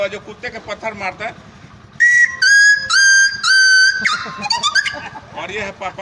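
A whistle imitates a dog with a series of sharp, loud yelping blasts in quick succession, with someone talking before and after them.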